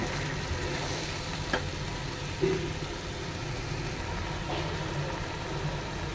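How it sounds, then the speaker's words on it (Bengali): Spice paste for a green coriander rohu fish curry being stirred and fried in a pan, a continuous low sizzle with occasional scraping knocks of the spoon and no talking. "ভালোভাবে মশলাটাকে কষিয়ে নিচ্ছি।"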